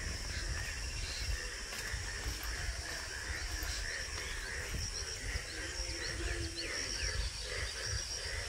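Frogs croak after rain near a village, a dense, steady chorus of rapid pulsing calls at a distance, blended with insect chirring and no talk.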